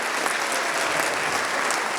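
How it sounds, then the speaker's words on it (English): An audience at a school senior program gives a round of applause, dense steady clapping filling the room throughout, fairly loud. "Let's hear a round of applause for yourself."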